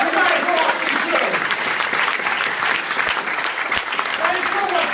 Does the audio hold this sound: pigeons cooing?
no